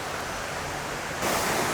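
A waterfall on a hidden trail roars as a steady, broadband rush of falling water, growing slightly louder toward the end, with no voices.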